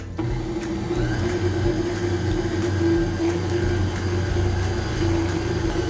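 An electric mixer beats pumpkin pie filling with sugar, cloves, ginger, cinnamon and salt, giving a loud, steady close motor whine with a constant pitch and no talk.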